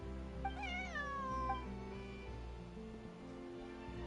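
Cat meowing in a video game, a couple of rising and falling meows in the first half, clear over a steady hum of game background music and ambience.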